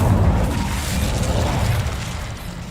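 An Incendio fire spell cast in Hogwarts Legacy, heard as a loud roaring whoosh-burst of flame that swells and holds for a couple of seconds before easing off.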